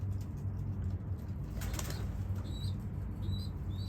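A pigeon beats its wings in a short flurry of flapping, close by, over a constant low background hum, with faint bird sounds around it.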